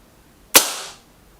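A single loud Remington rifle shot fired during a target test, a sharp crack followed by a short decaying echo, with quiet surroundings before and after.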